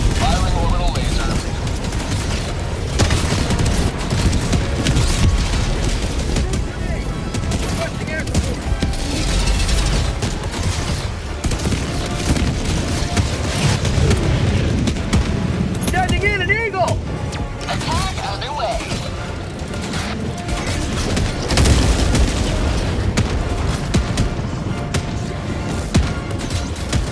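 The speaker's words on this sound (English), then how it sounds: "Firing orbital laser." Orbital laser strike firing in a shooter game, a dense continuous crackling barrage with mechanical rattling and bursts of gunfire, loud throughout, with players talking over it.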